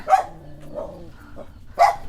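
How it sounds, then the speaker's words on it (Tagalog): A dog outdoors in a Philippine home setting gives two sharp, close barks separated by a pause of under two seconds, loud and clear with no talking. "Nakakatakot yung aso."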